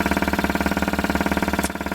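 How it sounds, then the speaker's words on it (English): A DIY compressed-air engine converted for high revs runs steadily and loud, a fast even stream of sharp exhaust pulses with a slight dip near the end, no voices. "one of the highest revving compressed air engines that you'll see"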